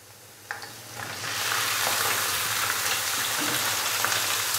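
Chicken dropped into a pan of fried onions, bursting into a loud, steady sizzle after a quieter start and holding a dense frying hiss up close.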